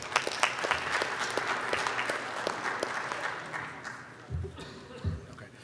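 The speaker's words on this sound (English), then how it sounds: "So let's give him a warm round of applause." Warm applause at a digital health conference as a speaker is welcomed, steady clapping that tapers off and gives way to a few voices and low thumps near the end.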